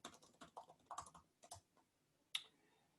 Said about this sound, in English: So I'm going to just type this in here.